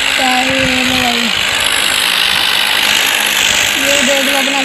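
Two tractors, a Sonalika and an Arjun, run their diesel engines hard in a tug-of-war contest, a loud continuous drone with wavering tones and a dense rough roar, with people talking over it.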